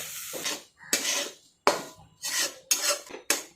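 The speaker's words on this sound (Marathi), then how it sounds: "दूध टाकून घेऊन आपण पुन्हा रवा भाजून घेणार आहोत।" Semolina roasting with milk in a pan is stirred with a spoon in six distinct scraping strokes, each a short gritty rasp separated by brief pauses.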